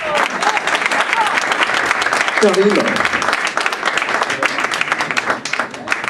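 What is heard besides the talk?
audience applause at a concert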